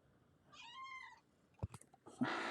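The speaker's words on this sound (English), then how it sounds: "I got my cat in the background." A cat in the background of a quiet indoor room gives one drawn-out meow, fairly faint, followed by a few sharp knocks and handling noises close by.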